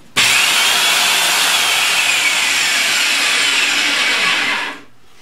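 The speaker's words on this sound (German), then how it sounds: "Der Nachteil von so einem Bandschleifer ist, er schleift wirklich nur hier in dem Bereich." A belt sander grinds across wood in one continuous, loud, hissing run, heard close up with no voices, then winds down sharply at the end.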